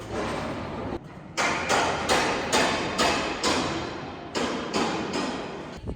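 Construction and renovation work in Bern, Switzerland: a run of loud, irregular thuds and banging bursts, each followed by a short decaying echo, with brief pauses between them.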